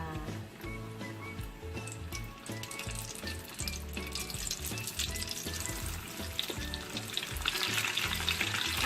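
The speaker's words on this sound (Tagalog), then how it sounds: "Simulan na natin ang ating pagpiprito." Chicken frying in hot oil for crispy fried chicken, a steady close sizzle and crackle running throughout and building louder toward the end, with no talking.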